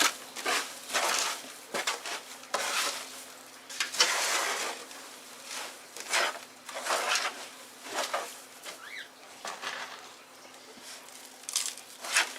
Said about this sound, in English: I'm going to add some more perlite to this mix.